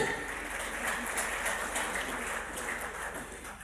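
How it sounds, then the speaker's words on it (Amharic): Sustained audience applause at a real estate promotional gathering, a dense, even patter of many hands that stays level and unbroken, resembling rain on a surface. "ሞቅ ባለ ጭብጨባ ተቀበሉልን።"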